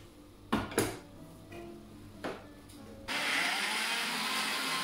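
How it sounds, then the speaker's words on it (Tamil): Curry leaves go into a mixer grinder for a coarse sambol: a few sharp knocks and clatters of the jar, then a sudden loud steady whir as the motor spins up close by. "இனி கடைசியா எடுத்து வச்சுக்கிற கருவேப்பிலைய போட்டு அரைக்க போறேன்"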